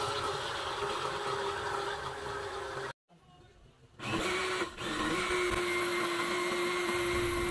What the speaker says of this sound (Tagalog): I-blend lang natin hanggang maging pino ang lahat ng ating sangkap.